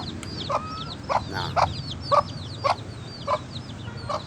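Chickens cluck repeatedly at a fairly regular pace, with softer chirps from other birds in the background.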